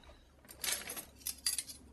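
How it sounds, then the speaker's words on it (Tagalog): Rinsed drinking glasses and plates clink and chink against each other as they are wiped dry by hand, a few short bright clatters in a quiet kitchen, with no talking. "Punasan mo na lang yung mga bagong banlaw na mga baso at pinggan nang matuyo agad ang mga yan."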